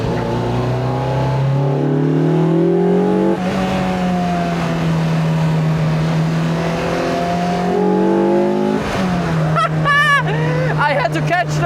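A Lotus Elise 340R engine pulls hard in second gear from the driver's seat, a loud, rising, harmonic-rich roar that climbs steadily, breaks at a shift, climbs again, then drops as the car slows, with brief tire or engine chirps after.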